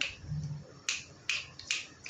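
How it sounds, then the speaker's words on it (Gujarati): Crisp finger snaps ring out close and sharp, four of them at uneven intervals after a soft low rumble, each a bright isolated crack. "ચપટી વગાડતો"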